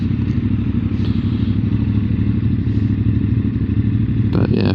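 A CF Moto 450 MT motorcycle engine in third gear gives a loud, steady, close drone with a low, throbbing rumble and a short clatter near the end.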